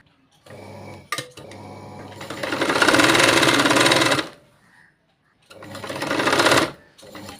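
Sewing machine stitching the back neck of a blouse with lining laid on the fabric, running in two loud whirring bursts separated by brief pauses and soft handling clicks, with a faint voice in between.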